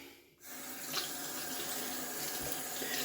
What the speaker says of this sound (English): Just gonna rinse out the tub.